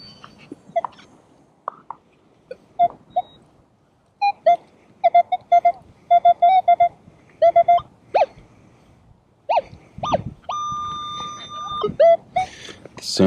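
Metal detector signal tones during an evening coin hunt, a series of short warbling beeps in bursts followed by a longer steady tone, with faint ground scraping between them.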